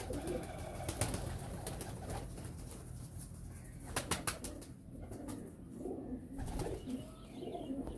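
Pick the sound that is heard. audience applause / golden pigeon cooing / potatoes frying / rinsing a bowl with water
golden pigeon cooing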